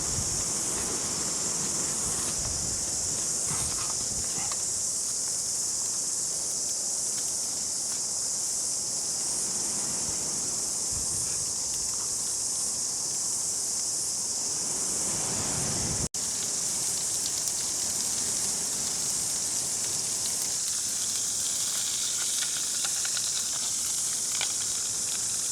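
Steady broadband rush of wind and rain over a rainy campsite with a tent shelter, constant and fairly loud throughout, with a faint high insect-like hiss layered on top and no voices.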